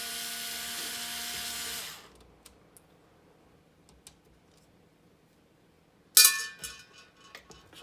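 A Robertson-bit driver loosening screws on a KitchenAid Pro 600 stand mixer whines steadily for about two seconds and then stops. A few faint clicks follow, then a brief, clattering burst near the end.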